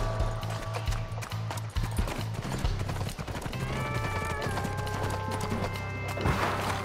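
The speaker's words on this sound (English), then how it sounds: "Whoa, horsey." Horse galloping in the Western video game Six Guns, steady clip-clop hoofbeats in a quick rhythm over game music, with a brief whinny.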